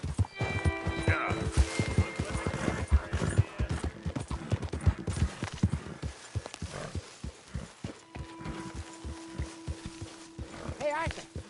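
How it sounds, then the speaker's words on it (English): Horse hooves clip-clop at a steady walking pace in a Red Dead Redemption 2 game scene, mixed with game sounds and a brief neigh near the end. "Careful with that horse, Arthur."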